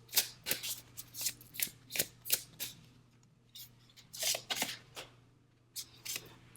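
Tarot cards are shuffled close up in a series of quick, crisp riffling bursts, with short pauses between the rapid flicks.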